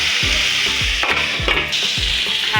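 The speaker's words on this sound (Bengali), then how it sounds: "এবারে আলুটা একটু ভাজা ভাজা হতে দিতে হবে" Potatoes frying in a pan for ghugni, a constant bright sizzle of hot oil with a regular series of low knocks, likely stirring, at a close distance.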